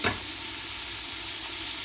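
Sausage sizzles steadily in a pan while cooking for jambalaya, a close, continuous crackling fry after a brief stir-like bump at the start, with no one speaking.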